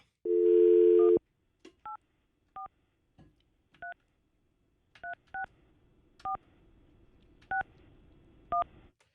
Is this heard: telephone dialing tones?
yes